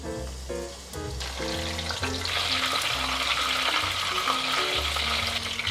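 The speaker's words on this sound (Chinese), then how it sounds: "接着放入杏鲍菇来炸。" King oyster mushrooms deep-frying in hot oil give a loud, steady, close crackling sizzle that runs unbroken throughout, with a soft tonal background underneath.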